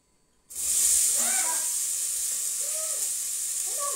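A loud, steady hiss of onions frying in a pan starts abruptly after a brief quiet moment and continues without a break, with faint clinks in the background.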